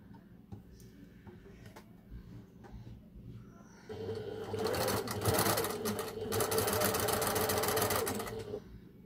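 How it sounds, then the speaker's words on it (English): Sewing machine stitching across the top of folded fabric a quarter inch in for a Dresden plate quilt block, quiet handling at first, then a loud, close, steady rapid whirring run of stitching for several seconds. "we're going to stitch across the top here, 1/4 inch in"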